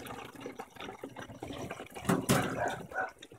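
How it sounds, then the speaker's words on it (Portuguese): Water running out from behind a washing machine: irregular splashing, trickling liquid, close and moderately loud, with a louder gush near the end. "Tava saindo água atrás dela."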